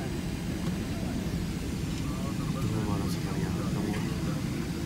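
Airliner cabin at Jinnah International Airport in Karachi during arrival, a steady loud engine and cabin roar with faint background voices throughout.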